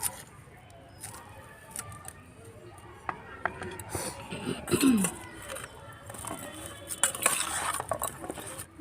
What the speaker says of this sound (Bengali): ভালো করে মাখিয়ে নেব